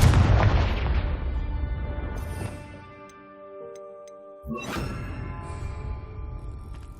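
A Confringo explosive spell goes off in Hogwarts Legacy. A loud booming blast decays into ringing, chime-like tones, and a second sharp burst follows a few seconds later.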